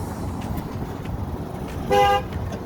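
Cars roll over train tracks laid flush in a road, with steady traffic rumble and a brief, loud car horn toot near the end.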